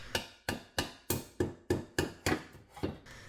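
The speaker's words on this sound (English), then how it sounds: "You might need a rubber mallet to just make sure that it's seated correctly all the way in and clipped." A rubber mallet taps a hose onto a new pipe on a 2023 Mini Cooper S, nine sharp, evenly spaced knocks at close range with no talking.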